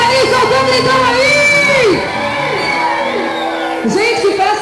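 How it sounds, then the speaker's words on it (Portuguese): A forró party crowd shouts and whoops in loud bursts of cheering, many voices overlapping close by, rising in waves and dipping briefly before another round of yells. "Quem tá feliz, solta um gritão aí!"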